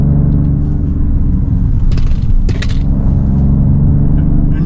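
A 2026 Dodge Charger R/T sedan powering through a turn, heard from inside as a loud, continuous low engine drone and road rumble with a few brief higher bumps midway, and no talking.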